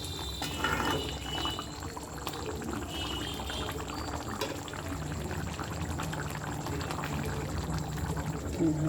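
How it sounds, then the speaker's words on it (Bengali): More gravy is poured into a prawn curry as it cooks in the pan, a continuous soft liquid pour and bubbling that holds steady throughout under a faint background hum. "আর একটু ঝোল মেরে দেবো"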